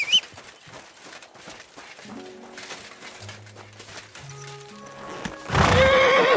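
Horse neighing in the video game Kingdom Come: Deliverance II, with clip-clop hooves in a busy scene; a loud, close whinny bursts out near the end.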